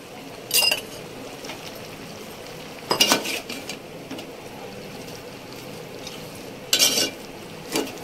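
A spoon stirs Mangalore-style chicken sukka masala in a pan, with a few separate bursts of scraping and clinking against the metal between quieter stretches of faint sizzle.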